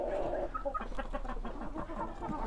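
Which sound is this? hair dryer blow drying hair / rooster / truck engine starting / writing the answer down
rooster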